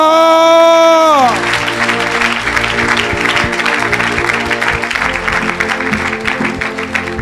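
Loud, sustained applause from an audience at a church gathering, beginning right after a sliding musical tone and continuing as a dense, even clatter of clapping for several seconds.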